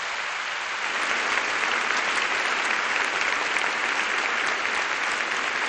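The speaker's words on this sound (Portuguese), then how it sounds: "Você pode aplaudir o Senhor pela sua palavra?" A church congregation clapping together during a Portuguese-language sermon, dense, even applause that holds steady throughout without talk.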